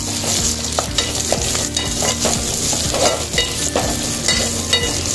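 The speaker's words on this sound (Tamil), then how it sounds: "இந்த கட் பண்ணி வச்சுருக்க வெங்காயத்தையும் அதில் சேர்த்துருவோம்." Chopped large onion sautéing in a pan for a tomato gravy, with a steady close sizzle of frying and repeated scrapes and clinks of stirring throughout, no voices.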